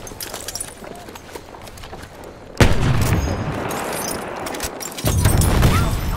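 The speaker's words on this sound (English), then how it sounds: "Enemy machine gun!" Battlefield 1 multiplayer battle with heavy bursts of WWI machine gun fire and rifle shots, loud and close, arriving in two surging waves over a constant din of battlefield noise.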